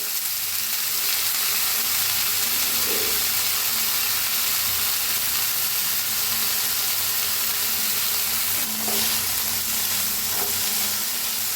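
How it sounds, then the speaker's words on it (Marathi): Moth beans (matki) roasting in ghee in a pan, a continuous dense sizzle throughout with a few soft stirring scrapes and clicks. "आता ह्याच्यात मटकी जरा भाजून घ्यायची आहे।"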